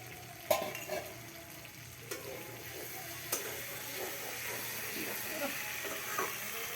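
A pumpkin flower dish in an uncovered pan gives a low steady sizzle, punctuated by a few sharp clinks and scrapes of a utensil against the pan.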